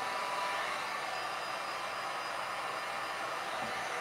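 A hair dryer blows steadily and evenly at close range throughout, drying Elmer's glue crackle paint on a piece of wood, with no other sounds over it.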